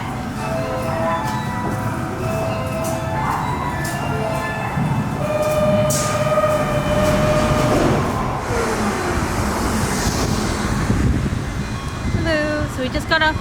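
Steady low rumble of a subway train in a Kyoto station, with a hum of machinery, brief tonal chimes and distant voices throughout.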